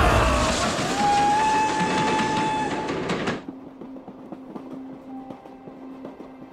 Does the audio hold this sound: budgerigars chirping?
no